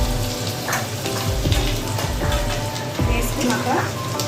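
Whole cloves, cinnamon pieces, cardamom pods and shahjeera sizzle steadily in hot oil for a paneer butter masala curry, a close, continuous crackle with a few louder pops.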